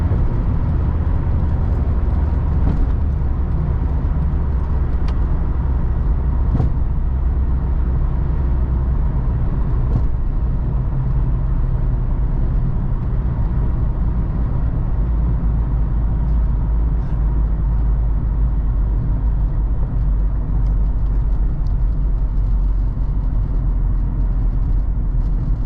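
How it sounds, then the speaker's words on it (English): Constant loud wind and road roar from inside a moving 1997 Jeep Cherokee XJ, a dense low rumble with occasional small clicks and rattles. "There is like some wind and road noise, as you'd expect with like an older car."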